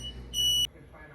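A smoke alarm beeps once near an oven that sets it off, in a kitchen where homemade spaghetti sauce is cooking. The tone is a shrill, steady electronic blast lasting about a third of a second over a low room hum.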